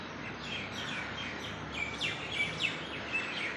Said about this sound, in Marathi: छान असा पक्ष्यांचा किलबिलाट चालू आहे